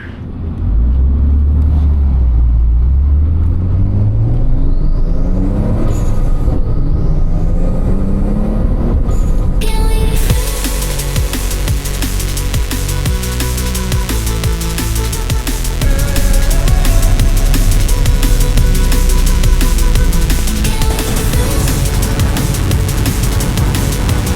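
Nissan Cefiro A31 with an RB20DET engine driving at night in Bangkok, revving through gears with rising engine pitch, then a loud continuous broadband road and engine roar, close and unbroken.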